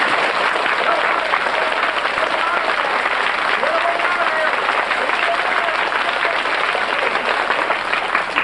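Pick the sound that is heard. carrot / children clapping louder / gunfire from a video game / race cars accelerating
children clapping louder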